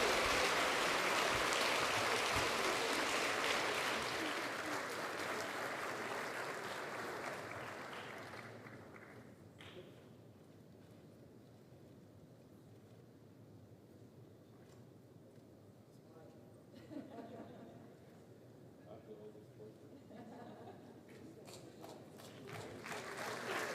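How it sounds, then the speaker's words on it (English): Audience applause for a panel at a talk on AI governance in Africa, loud and sustained at first, then thinning to scattered clapping with a brief swell later, over crowd murmur. "Give them extra special, warm, loud, Africa-style applause."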